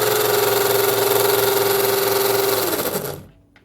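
Tamiya Bruiser RC truck with a 3-speed gearbox running steadily, a loud, close, buzzing electric motor and gear whine holding an even pitch before winding down and cutting off near the end.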